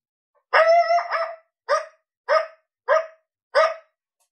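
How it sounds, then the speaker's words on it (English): Male coyote howl-bark from a game call: a quavering howl of about a second followed by four clipped barks spaced evenly, loud and isolated in silence. "So that is coyote male howling bark."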